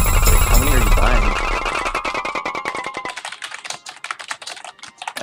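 Fingers type on a computer keyboard in a rapid run of close, crisp clicks. A dense burst of mixed game sounds opens the passage and fades out.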